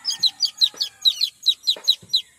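A mother hen kept in a backyard, now brooding, clucks in a steady run of about nine close, evenly spaced calls, each with a low throaty onset, loud and near with no talk.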